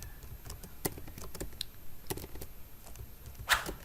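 Code is typed on a computer keyboard in irregular bursts of quick, sharp key clicks with short pauses, quiet and close, with no speech.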